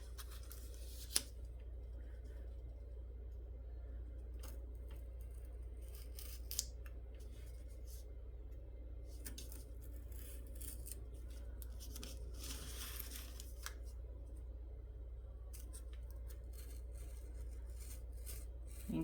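Scissors or cutters snipping plastic model kit parts from a sprue for a Huoluo Castle build, a few sharp isolated clicks over a quiet low hum.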